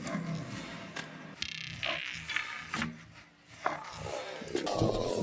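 Electronic music signal run through a reverb plugin, a dense, washy, shimmering texture with swelling tones and scattered percussive hits, played fairly quietly and continuously with no speech.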